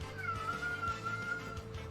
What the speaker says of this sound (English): It's my cat. Wants everybody to know that he's here.